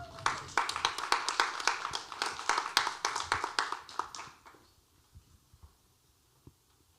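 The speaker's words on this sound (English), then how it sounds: "Can we all give a big round of applause?" An audience applauds the guest of honor at an arts and style premiere, with a burst of clapping that swells and then tapers away, leaving near silence with a few faint bumps.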